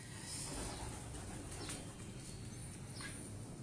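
Soft cooing of breeder pigeons in a loft, faint and intermittent against steady background noise, with a few brief higher chirps.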